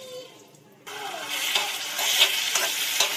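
Fried potatoes being stirred into spices in a pan for an egg and potato gravy: after a quiet start, a sudden loud frying hiss rises and holds, broken by scraping spatula strokes, close by, with no speech.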